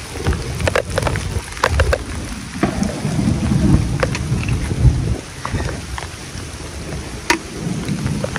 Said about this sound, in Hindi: अभी लगातार बारिश, कैट्स एंड डॉग्स.